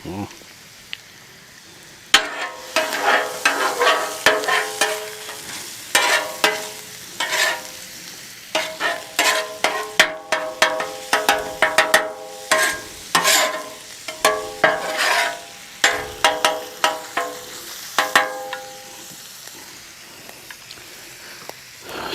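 Cheesesteak meat cooking on a 28-inch Blackstone folding-leg griddle, with steady sizzling under a run of sharp, rapid metal spatula scrapes and chops that come in irregular bursts close to the listener.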